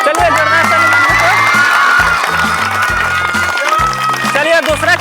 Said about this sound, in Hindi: चलिए जोरदार ताली मारिए